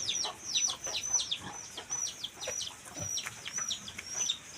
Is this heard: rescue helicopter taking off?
no